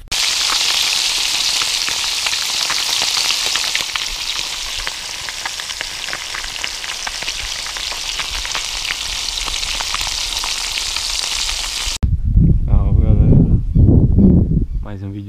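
Steady, loud sizzling of freshly caught fish frying in hot oil fills most of the clip, then cuts to a closer, rougher crackle near the end.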